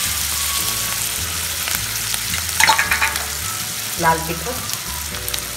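Sambar masala and spices roasting in hot oil for sambar, a steady frying sizzle with stirring scrapes and a couple of louder bursts near the pan, under brief speech.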